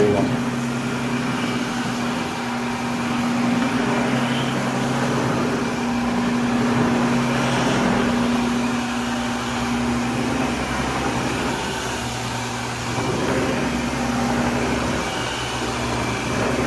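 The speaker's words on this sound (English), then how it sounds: "So much wax, my machine is hard to push." A floor machine strips a heavy build-up of wax from a hardwood floor with a loud, continuous motor drone and a steady hum that go on throughout, while a person talks over it.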